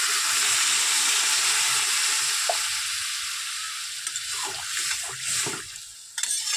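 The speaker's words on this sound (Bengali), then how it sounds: "এবার আমি জল দিয়ে দেবো।" Water is poured into a hot cooking pan holding a bitter gourd dish, setting off a loud hissing sizzle that slowly fades, broken by a few clinks and bubbling near the end.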